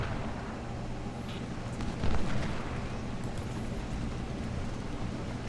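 Artillery fire and explosions from the Civil War strategy game Ultimate General: Civil War, set at the Battle of Shiloh, make a dense, continuous battle rumble with a louder booming burst midway.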